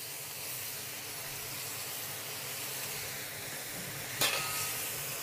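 Shanghai bok choy sizzles and hisses steadily in a hot wok, a constant broadband frying noise with a brief sharper burst of spatter near the end, no talking.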